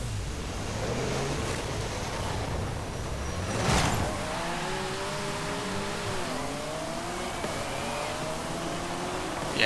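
A high-revving GT car engine in Forza Horizon 5 climbs through the revs, with repeated rising whines as it shifts up, set against steady wind and road rush at moderate loudness.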